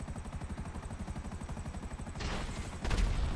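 Rapid helicopter rotor thumping from GTA V Online runs steadily, then bursts of game gunfire and explosive blasts erupt over it.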